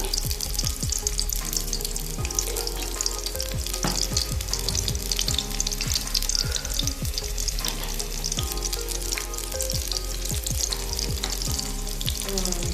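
Cumin seeds sizzle and crackle in hot oil with dense, continuous popping, loud and close, with no talking.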